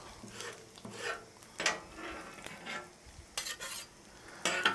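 A metal scraper pushes bacon grease across a hot Blackstone griddle, giving repeated scraping strokes in an irregular rhythm over a soft sizzle, close and moderately loud.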